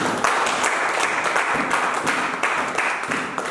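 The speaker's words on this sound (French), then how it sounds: "Acclame Jésus, acclame Jésus." A church congregation applauds together in a sustained, dense round of clapping that fills the room for several seconds.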